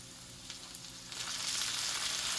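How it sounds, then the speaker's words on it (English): Roasted red peppers hit a hot pan and start sizzling, a bright frying crackle that swells louder after a second and continues steadily, close up. "It's going to sizzle a little bit."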